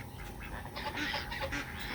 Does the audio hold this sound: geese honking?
yes